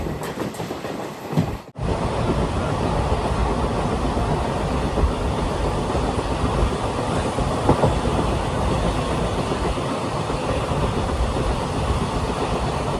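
A diesel-hauled passenger train from Tirunelveli to Kanniyakumari rumbles and clatters steadily on the rails, loud and continuous from on board after a brief cut at the start.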